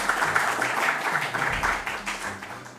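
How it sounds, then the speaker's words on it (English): An audience applauds a junior high school team at a school quiz competition, with steady, moderately loud clapping spread across a hall that holds throughout and slowly fades. "Please put your hands together for them."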